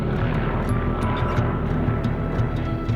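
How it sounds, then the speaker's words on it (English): Aircraft engine drone from a plane passing overhead near a nearby wildfire, a steady low rumble filling the clip without pause, moderately loud with no talking. "You might have heard planes keep coming over."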